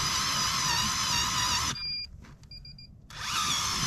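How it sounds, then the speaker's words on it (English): A power auger grinds through lake ice on a frozen lake while ice fishing, a loud steady whine that briefly cuts out and then resumes. "waiting for Buddy to finish drilling over there"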